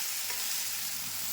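Finely chopped onions frying in a pan with tomato and spices for chicken curry, a soft continuous sizzle with a light stirring scrape, heard close and fairly quiet, with no voices.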